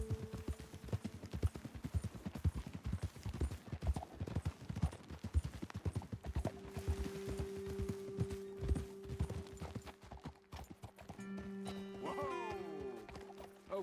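Horse hooves clip-clopping in Red Dead Redemption 2, a steady run of hoofbeats that slows and fades, with a horse's whinny near the end and brief talk over the top.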